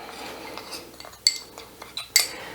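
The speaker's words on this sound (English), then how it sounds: "So I'm just gonna mix that together." A spoon stirs a mix of ground spices and garlic in a dish, giving soft scraping with a few sharp metallic clinks against the dish, close and isolated, with no talking.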